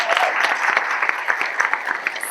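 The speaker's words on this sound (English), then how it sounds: "Give her a big round of applause" Crowd at a startup-week opening conference giving a round of applause, a short lively patter of many hands clapping in a hall, fairly close and steady.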